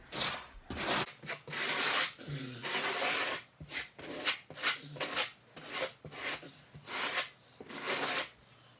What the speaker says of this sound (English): you're going to take your trowel and just work that thin set down into your cracks there